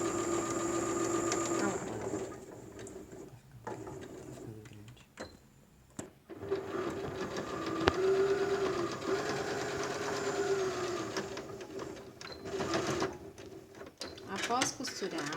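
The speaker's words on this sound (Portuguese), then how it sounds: "eu vou costurar exatamente em cima daquela primeira costura" A sewing machine stitches fabric directly over an earlier seam while sewing a fabric drawstring bag, a soft, quick mechanical chatter that runs in short stretches with brief pauses, quiet and close, with a voice talking over it.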